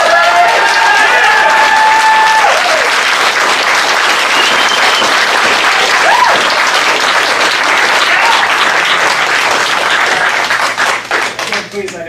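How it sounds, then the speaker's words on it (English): Audience at a public meeting breaks into loud, sustained clapping and cheering that fills the room for about ten seconds, with shouting voices mixed in, before it starts to thin out near the end. "I'm asking you not to boo or clap one way or the other."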